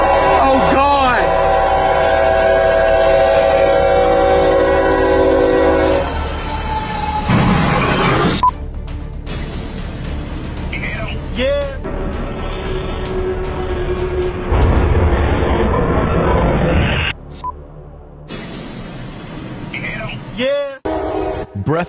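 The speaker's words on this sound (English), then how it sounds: "Breathtaking moment when a freight train crashed into a tractor trailer stuck on the tracks." A loud freight train horn blares repeatedly, followed by a heavy crashing impact and rumbling as the train hits a tractor trailer stuck on the tracks, with shouting voices around it.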